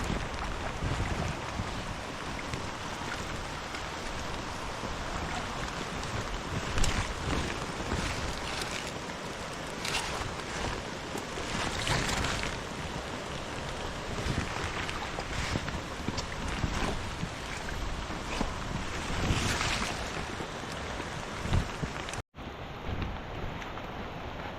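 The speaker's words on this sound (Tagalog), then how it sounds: "Sobrang lakas ang hangin." Strong wind blusters continuously across an outdoor harvest site, a loud close roar with repeated gusts buffeting the microphone, without talk.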